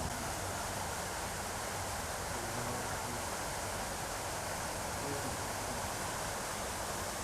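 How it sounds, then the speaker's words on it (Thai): A waterfall at the entrance of a Thai hillside temple rushes in a steady, dense wash of falling water, constant and unbroken throughout with no distinct events standing out. "ด้านหน้าทางเข้าก็จะมีน้ำตกนะครับ"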